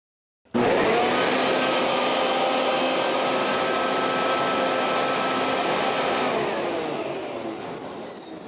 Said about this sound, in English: we blow a large flow of air upward through the granular media to fluidize it